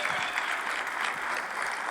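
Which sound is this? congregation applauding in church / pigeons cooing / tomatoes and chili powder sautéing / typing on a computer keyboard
congregation applauding in church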